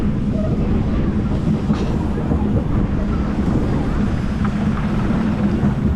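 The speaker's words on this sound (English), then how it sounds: "Like I got that old Caterpillar coaster train down there as well." An old Caterpillar roller coaster train runs at a seaside amusement park, a steady low rumble with faint rail clatter throughout, fairly close and continuous with no talk over it.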